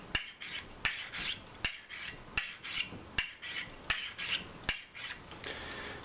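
A hunting knife is drawn across a sharpening stone in steady, rhythmic rasping strokes, about eight even passes, close and clear with short pauses between them.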